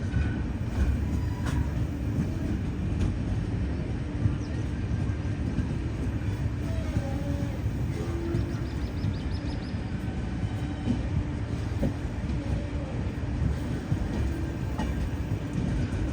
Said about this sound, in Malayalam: അതിലൂടെ ഒരു വണ്ടി വരുന്ന കാണുന്നില്ലേ